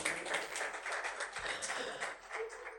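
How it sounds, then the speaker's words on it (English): Audience applause for panelists at a business financing talk, a dense, even patter of many hands clapping, heard at a moderate distance and fairly quiet, with no talk over it. "Please round of applause for them again."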